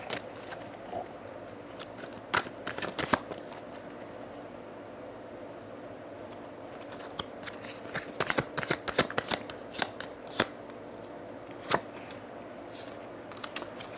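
Tarot cards being shuffled during a love reading, a steady papery riffling with bursts of sharper slaps and flicks, close and fairly quiet, with no voices.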